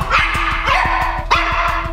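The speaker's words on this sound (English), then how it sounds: "Why do you guys keep barking?" A dog barks rapidly and repeatedly, sharp yaps close by, with a second bark layered over a steady low hum.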